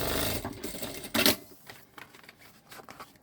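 A sewing machine stitches a synthetic backpack panel, running in a steady mechanical whir, pausing with a clunk for a short backstitch reverse, then resuming in shorter close bursts.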